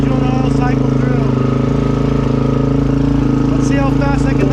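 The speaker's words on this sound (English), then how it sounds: "we're gonna let the engine warm up really quick, 2 to 3 minutes" Race dirt bike engine idling steadily as it warms up before desert racing season, a loud continuous drone with a constant rhythmic pulse throughout, joined by faint metallic clinks near the end.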